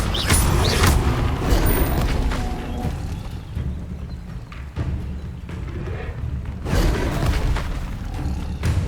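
Incendio fire spells cast repeatedly in Hogwarts Legacy, loud whooshing bursts and booming, thudding impacts that come in waves, fading in the middle before swelling again over a rumbling game background.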